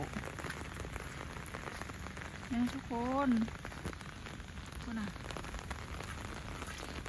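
Light rain falls on a rice field during leaf cutting, a soft, continuous patter of drops. A few brief voices speak faintly over it.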